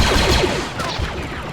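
Gunfire in Squad, a squad-based military shooter built on Unreal Engine 5, comes as a burst of rapid overlapping shots that rings out loudly and then trails off.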